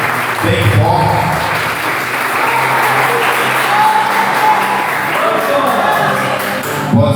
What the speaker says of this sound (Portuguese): aplauda o Senhor Jesus bem forte, bem forte, bem forte